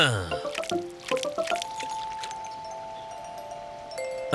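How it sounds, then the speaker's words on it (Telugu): Cartoon stones tossed onto water make a quick run of watery plops and drips, then bright ringing tones that hold and fade, with no voices. "రా పీకు, నేనిప్పుడు నీకు చూపిస్తాను నీటిపై రాళ్ళు ఎలా వెయ్యాలో."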